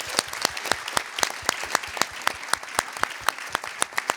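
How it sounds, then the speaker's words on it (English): A small audience gives a round of applause for a speaker at a youth pitch event on Arctic cities, sparse distinct handclaps in an uneven rhythm, close and clear. "Give her a round of applause"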